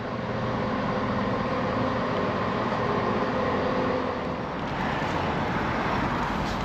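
A steady, loud rumble of a moving train, with constant wheel and track noise throughout and no voices.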